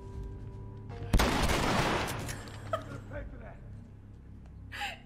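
A shotgun fires once in The Last of Us, a single loud close blast that decays into a rumbling tail, then scattered fainter impacts and gasping vocal sounds.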